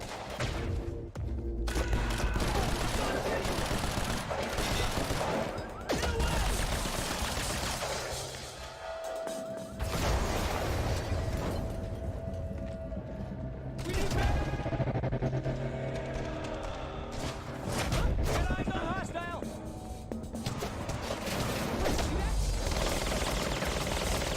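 Gunfire in the shooter Quantum Break, bursts of shots mixed with crashes and booms that come in repeated loud waves, with someone speaking over some of the action.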